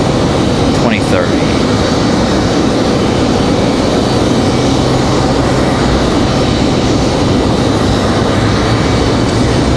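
A Frontier airliner taxis at Raleigh-Durham International Airport, heard as a loud, broad, continuous jet engine roar that holds steady throughout, with wind buffeting the microphone.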